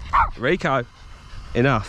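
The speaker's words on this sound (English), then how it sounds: "Excuse my dog, because he is a bit noisy." A dog gives a couple of short, close barks or yips during an off-road RC car speed run, broken up by a person speaking sharply over it.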